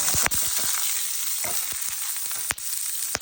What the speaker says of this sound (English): Okay, so my red onion is cooking.